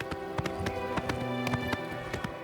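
Horse galloping in Oblivion Remastered, the video game, with rapid rhythmic hoofbeats pounding steadily and close over a continuous game backdrop.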